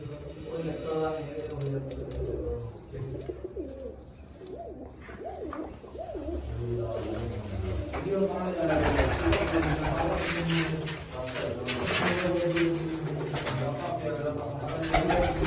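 Pigeons in a loft, repeated soft cooing calls close by, heard over and between someone talking, then a louder rustling and flapping stretch toward the end.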